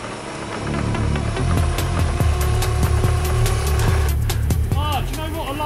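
A cheap electric scooter's motor runs with a steady, loud whine and hum that holds an even tone, then shifts and wavers near the end as it gathers speed.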